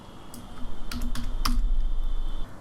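Rapid keystrokes on a computer keyboard, a run of close, crisp clicks and taps in an uneven rhythm, heard alone without voices.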